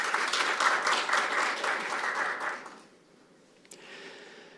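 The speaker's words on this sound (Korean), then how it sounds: "다시 한번 우재준 국회의원님께 큰 박수 부탁드리겠습니다." Applause at a 2025 National Assembly forum on construction safety policy, honoring a member of the National Assembly; a full, steady crowd clapping that fades out after about three seconds, leaving a hushed room with a faint knock.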